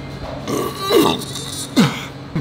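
Two loud, gulping burps a little under a second apart from a man during a casual car chat, each with a sharp falling croak, over low background hum.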